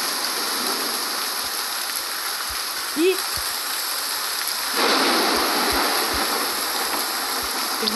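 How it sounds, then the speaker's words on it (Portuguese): Steady rushing waterfall in the Ultimate Forest Simulator video game, a continuous broadband wash of falling water that grows slightly louder midway, with a brief voice exclamation over it. "Olha a cachoeira."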